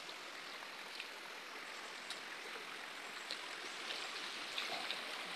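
Fresh water of a stream flowing over rocks, a soft, steady babbling and hiss with small splashy ticks, fairly quiet and close, no voices.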